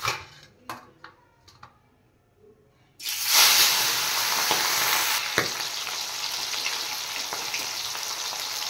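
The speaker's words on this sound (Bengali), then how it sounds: "এবার তেলটা দিয়ে দিচ্ছি, মাছগুলো ভেজে নেব" Fish pieces coated in turmeric and salt drop into hot oil in a wok and erupt into a loud, steady sizzle that holds to the end, after a few quiet kitchen knocks and taps.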